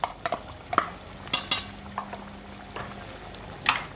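Chicken with homemade yogurt is stirred and fried in a pan, with a spoon clinking and scraping against the metal in irregular strokes over a soft sizzle, close by.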